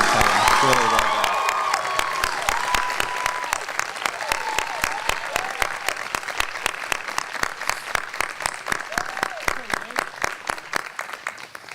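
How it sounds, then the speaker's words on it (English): A school commencement audience applauds the student body co-presidents, a dense burst of clapping with some cheering and a few voices at the start, settling into sparser, distinct claps that slowly thin out. "I'd love to have a round of applause also for your student body co-presidents, Nick and Kelly."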